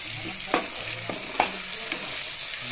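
Potatoes seasoned with salt and turmeric sizzle in a pan as a spatula stirs them, with a few sharp scraping clinks over a steady frying hiss.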